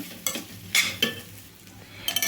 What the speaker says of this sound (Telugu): ఒక రెండు నిమిషాల పాటు అయితే వేయించుకోవాలి